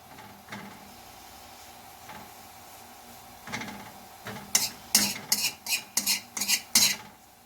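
A spoon scrapes and clinks against a pot while a homemade chewing tobacco mixture is stirred on a stove, with a few sparse knocks first, then a quick series of sharp metallic strokes, with no talking.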